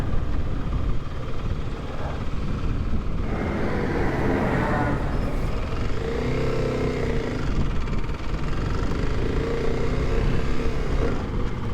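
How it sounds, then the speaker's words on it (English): Big tractor passing on a broad beach in remote Scotland, a heavy engine drone that swells and fades, heard over a running motorcycle engine with some wind noise. "Oh, big tractor coming."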